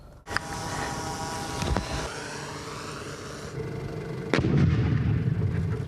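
Russian grenades dropped from a Mavic 3 drone explode near Bakhmut: several sharp, booming blasts, one near the start, one midway and a heavy one near the end, with rumbling and a steady engine-like drone between them.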